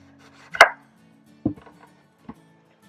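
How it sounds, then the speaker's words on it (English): A kitchen knife cuts lemons on a cutting board for a vegetarian ceviche: three separate, close chops, the first sharp and loud and the next two duller and softer, with quiet pauses between them. "So now I'm pre-cutting the lemons"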